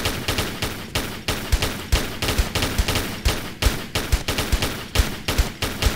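Rapid continuous gunfire from Tomb Raider 3, a dense loud stream of shots with steady rhythmic thumps and no pauses throughout.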